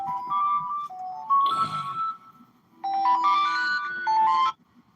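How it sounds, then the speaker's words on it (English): A phone ringtone plays loud and near as a bright electronic melody of repeated tonal phrases, with a short pause partway before the tune resumes, then stops. "So the phone's going off, of course."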